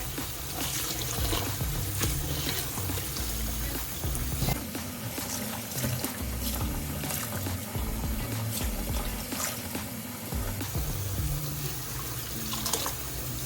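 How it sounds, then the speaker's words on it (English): Water splashes and swishes steadily as sandy vegetables are rinsed by hand in a bowl of cold water, with a continuous running, sloshing texture throughout and no talking. "I will wash it with cold water."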